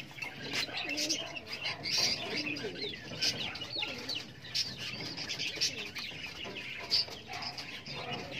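Pigeons kept in a loft, including large birds of a Maui Japan cross, coo and chirp near the listener, with scattered soft wing flutters throughout.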